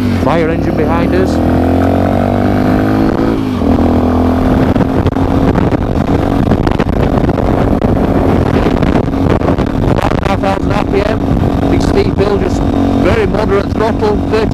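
Sinnis Terrain motorcycle fitted with a new exhaust cruising at moderate throttle around 30 mph in fifth gear, a steady loud engine drone with wind noise throughout and a rider talking over it.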